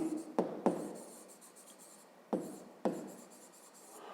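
Pen strokes on paper while working a fifth-grade maths exercise: four short, quiet scratches in two pairs, with pauses between them.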